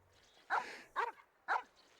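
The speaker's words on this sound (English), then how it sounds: "Drooling dog." A dog in Genshin Impact gives three short, sharp barks spaced about half a second apart, clear and close with near silence between them.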